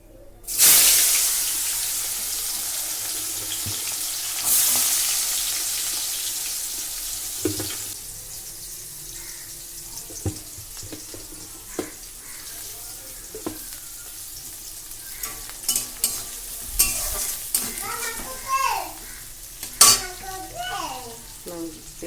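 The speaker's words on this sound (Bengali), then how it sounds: "মাছটা ভাজা ভাজা হতে থাক" Fish frying in a pan in a home kitchen, a broad steady sizzle that is loudest at the start and eases off, with scattered clinks and small handling knocks growing busier toward the end.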